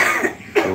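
A short, close cough, with a quick rough burst followed by a second harsher one, heard alone.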